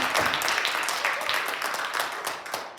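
An audience in a Kenosha gathering against a methane gas plant breaks into sustained, dense applause, a steady wash of many hands clapping close and loud throughout.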